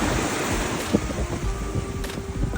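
Sea waves wash ashore at Chao Samran beach under steady wind buffeting, a continuous rushing surf with a faint tonal hum running beneath.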